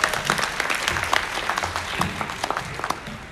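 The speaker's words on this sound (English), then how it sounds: "Give a loud round of applause for Umar." At a book launch at an academy, a seated audience gives steady, close applause that lasts the whole few seconds and never breaks.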